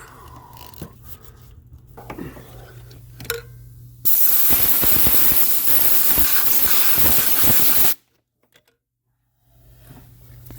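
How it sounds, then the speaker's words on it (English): A loud, steady hiss of an aerosol spray on threads lasts about four seconds, with quieter clinks and handling noises before and after. "More spray."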